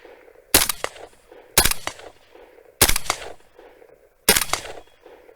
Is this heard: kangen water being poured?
no